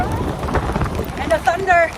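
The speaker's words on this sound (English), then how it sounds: "Started raining." Rain falls steadily outdoors in the Everglades with a low rumble of thunder underneath, a continuous wash of noise with faint tonal sounds breaking through near the end.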